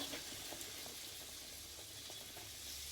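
Paneer frying in butter in a pan gives a steady, even sizzle with soft bubbling and faint crackles, continuous throughout and close by.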